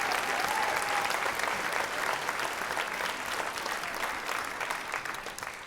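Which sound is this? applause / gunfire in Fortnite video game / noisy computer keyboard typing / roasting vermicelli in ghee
applause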